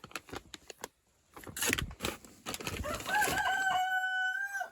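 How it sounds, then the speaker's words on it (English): A rooster crows loudly nearby in a long, drawn-out call, following scattered clucks and rustling. "And I have a whole bunch of stupid roosters out here."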